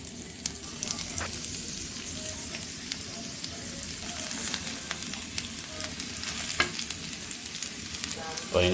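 Vegetable sticks sizzle steadily in homemade ghee in a pan, a dense, continuous crackling fry with occasional louder pops, close and alone.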